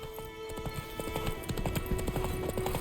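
Rapid clip-clop of a horse galloping in The Witcher 3: Wild Hunt, steady hoofbeats running throughout over a continuous game music bed, fairly close and moderately loud.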